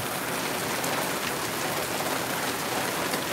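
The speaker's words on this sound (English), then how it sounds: "We needed this rain so desperately bad, like so badly." Heavy rain pours steadily during a thunderstorm, a dense, loud hiss of drops hitting surfaces with no thunder or voices in this stretch.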